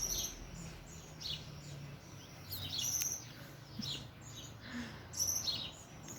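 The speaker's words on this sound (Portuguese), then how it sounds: "O melhor som para se ouvir, passarinhos." Small birds chirp and tweet at dawn in a backyard, several short bright calls scattered over a steady faint outdoor hiss, moderately distant and without talk.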